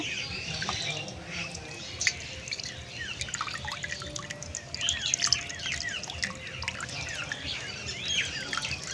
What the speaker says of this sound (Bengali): আমি এবার ঠান্ডা জল দিয়ে ভালো করে ছানাটা ধুয়ে নেব।